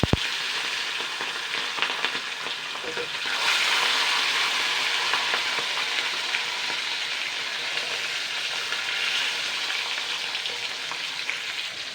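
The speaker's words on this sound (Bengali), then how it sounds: "এবার নুন হলুদ মাখানো মাছগুলো আমি ছেড়ে দেবো।" Pangas fish rubbed with salt and turmeric fries in hot oil with a close, continuous crackling sizzle. The sound grows louder and denser a few seconds in as more pieces go into the pan.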